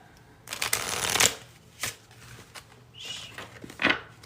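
Oracle cards being shuffled in several bursts of rapid papery riffling, with a few cards slipping out and slapping down, close and fairly quiet, no voices.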